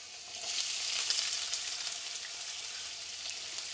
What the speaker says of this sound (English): So I'm going to add the onions now.